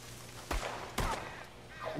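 Two sharp gunshots from other players in Red Dead Redemption 2 online, about half a second apart, moderately loud over a low steady hum, with a fainter shot near the end.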